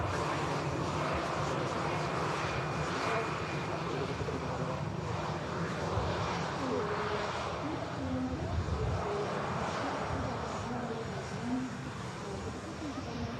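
A TUI airliner departing Manchester Airport for Corfu produces a continuous broadband engine roar, steady and moderately distant, with faint voices murmuring underneath.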